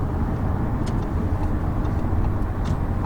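A 2017 Audi A4 accelerating on the road, heard from inside as a steady, close low engine and road drone with tire hum, even in level throughout, no voices.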